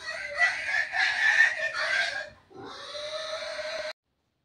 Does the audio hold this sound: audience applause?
no